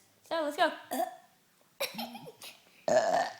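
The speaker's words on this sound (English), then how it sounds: "we're gonna be doing a burping contest." Several loud throaty burps break out one after another during a burping contest between young friends, with brief spoken words and giggles between them.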